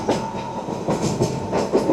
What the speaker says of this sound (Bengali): নির্ধারিত সময়ের মধ্যে আমাদের ট্রেন প্রবেশ করছে শিলিগুড়ি জংশন স্টেশনে